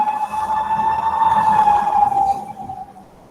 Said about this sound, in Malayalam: സോറി, ആംബുലൻസ് പോകുന്നുണ്ട്.